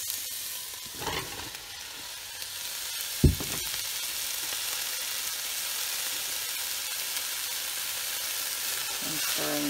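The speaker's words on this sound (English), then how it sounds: "Stirring that all up." Onions, potatoes and leek sizzle steadily in a soup pot, with a soft continuous frying hiss broken by a few scraping stirs near the start.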